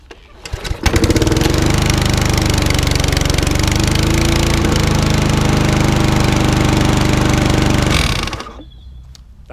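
A small petrol lawn mower engine sputters to life after a brief pull, then runs loud and steady for several seconds before cutting out abruptly.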